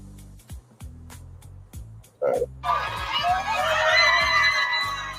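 Crowd bursts into loud cheering and whooping just after court adjourns in a $1.75 million compensation case, erupting suddenly after a stretch of low voices and rising to a sustained, excited roar.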